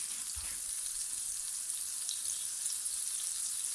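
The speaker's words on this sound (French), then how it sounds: "Je viens en mettre sur le fond de la poêle. Allez, je vais monter un petit peu la température." Soft bread rolls fry in butter in a pan over the stove, giving a steady, even sizzle and hiss throughout with no voices.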